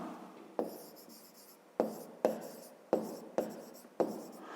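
A pen writes out a math solution on paper in a steady run of short scratchy strokes, with a sharper tap starting each of about six bursts, close and fairly quiet with no talk.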